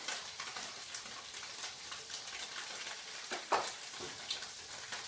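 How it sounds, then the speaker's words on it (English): Tofu and garlic fry in oil on a stovetop, giving a soft, steady crackling sizzle with scattered pops and one louder spatter. It is quiet and close, with no one speaking. "I'm going to add some garlic while this is cooking in the oil, too"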